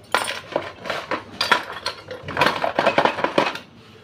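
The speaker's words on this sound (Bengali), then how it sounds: "ভালো পেট্রোল দিয়ে আমি সবগুলোকে আবার একটু ভালো করে আমি ধুয়ে নিচ্ছি পেট্রোলে।" Small metal carburetor parts from a TVS Pep Plus scooter clink and rattle together while being washed in petrol, a close run of irregular light metallic knocks and chinks with no speech.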